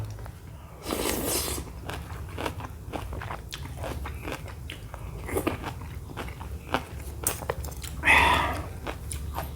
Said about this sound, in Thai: กินซุกี้กับผักสลัดหอม